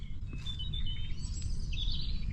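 Several birds sing and chirp in the early morning at a wild camp on the Ridgeway trail, bright overlapping calls and tweets heard at moderate distance over a steady low outdoor rumble.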